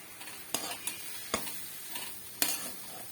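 Ponnaganti leaves frying in a pan as two spoons of ground peanut and chili powder go in, a soft sizzle broken by a few sharp spatula scrapes and clicks against the pan, close by and with no voices.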